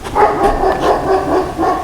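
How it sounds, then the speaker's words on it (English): Nearby dog in a fenced yard barks steadily, a run of loud, evenly spaced barks filling the short stretch with no voices. "Is that dog loose or is that dog still in"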